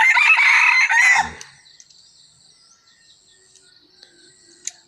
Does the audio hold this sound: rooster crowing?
yes